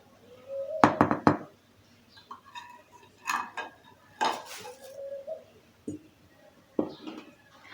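Flour, baking powder and salt stirred in a bowl, producing irregular clinks and knocks of a utensil against the bowl with short scraping between, close and moderately loud, with pauses and no talk.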